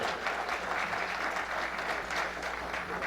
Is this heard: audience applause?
yes